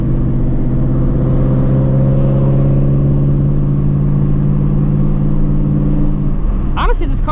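A Procharged Shelby GT350 running open headers drones with a loud, rough V8 exhaust note heard from inside, engine pitch holding and shifting over several seconds before a voice cuts in at the end.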